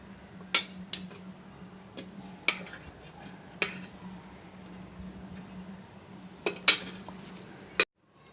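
Cooked apple for a baby's apple-banana porridge is moved into a bowl with a few sporadic metallic clinks and scrapes of a spoon against a dish, over a quiet steady low hum.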